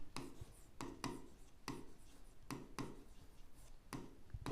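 Pen strokes on paper while working through linear equations in two variables, a series of short scratchy bursts about every half second, fairly close and clear with no talking over them.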